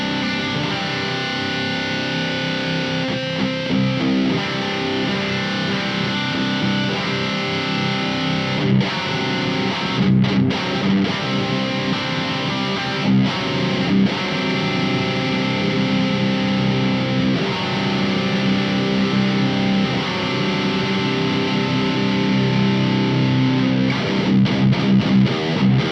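A low-tuned electric guitar with Mr Glyn's Draig pickups plays through heavy distortion, thick sustained doom chords ringing loud and dense with brief chugging breaks, no voices.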